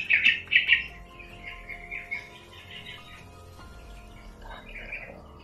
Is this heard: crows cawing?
yes